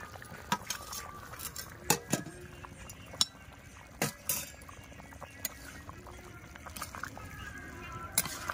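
Fried potatoes go into a pot of simmering meat curry: scattered light clinks of utensil on metal and soft splashes, fairly quiet, over a low bubbling background.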